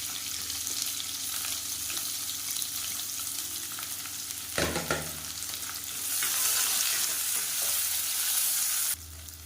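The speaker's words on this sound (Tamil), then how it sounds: "ஒரு பெரிய வெங்காயம் நீளமாக நறுக்குனதை சேர்த்துக்கலாம்." Sliced onion, a large one cut lengthwise, sizzles and fries in a pan with curry leaves for a soya chunks kuruma, steady close frying with a stir clatter midway and a louder sizzle burst later.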